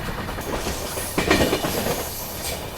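A Panchaganga Express train rumbles along its track between Udupi and Padubidri, steady wheel noise with a rhythmic clack or two, heard from inside the moving carriage.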